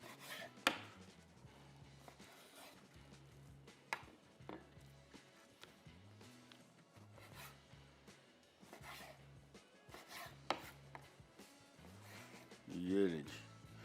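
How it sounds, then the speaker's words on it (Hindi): A knife cuts fish into finger-fish strips on a board, giving quiet, irregular chops and taps spread across the stretch, with a low murmur underneath. "फिंगर फिश पहले काट लेते हैं।"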